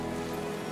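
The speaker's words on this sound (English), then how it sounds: "just like the rain pouring down on top of my umbrella" Rain pouring steadily onto an umbrella at Senso-ji temple in Tokyo, a dense, even patter close by with no voices.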